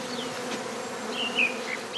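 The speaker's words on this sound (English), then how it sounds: "The bees are clustering now on this branch of a tree." Honeybees swarming and clustering on a tree branch make a steady, dense buzzing hum, with individual bees whining past nearby, moderately loud and continuous with no voices.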